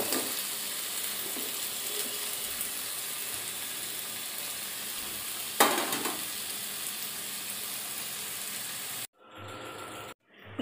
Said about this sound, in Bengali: মশলাটা কষানো হয়ে গেছে, এবার আমার মাছ, আলু আর ডিম দিয়ে দেব।